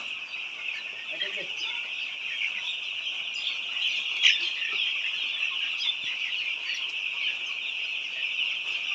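White layer hens clucking on a poultry farm, a dense, continuous chorus of overlapping clucks and calls at moderate distance, with one brief louder squawk midway.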